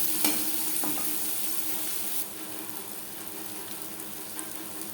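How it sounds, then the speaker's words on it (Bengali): Chopped onion frying in oil left over from frying chela fish, a steady close sizzle with a brief louder crackle at the start that settles into an even hiss. "মাছ ভেজে নেওয়া তেলে দিয়ে দেবো পেঁয়াজ কুচি"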